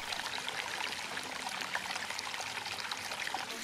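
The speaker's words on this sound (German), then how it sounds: "Die Wassermenge ist aktuell die volle Pumpenleistung, also 10 Kubikmeter pro Stunde." Garden stream of placed sandstones with water pumped at full power, about ten cubic metres per hour, flowing in a steady, close, broadband rush and trickle that continues unbroken throughout with no voices.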